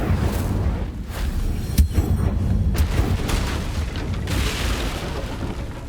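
A cast of the Incendio fire spell in Hogwarts Legacy, heard as a series of sharp, punchy bursts and whooshing flares, loud and close, with no talking.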